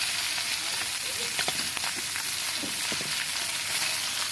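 Fish frying in oil over a wood-fired stove, a dense continuous sizzle and crackle at an even level with a few faint taps, close and steady throughout.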